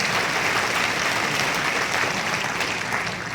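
A large crowd in Bikaner claps loudly in welcome at a ceremony marking 75 years of the Constitution, dense, continuous applause filling the hall at full strength.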